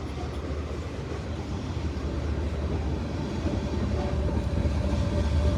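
CSX freight train passing with its distributed power unit locomotive, a steady loud rumble of rolling wagons and rail noise throughout.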